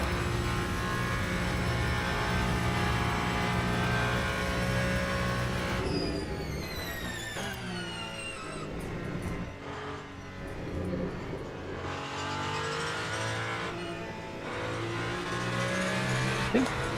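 A Ferrari race car in the Le Mans Ultimate sim racing game, lapping Spa, roars continuously close up, its engine rising and falling through gear changes with some tyre squeal under a steady, loud drone.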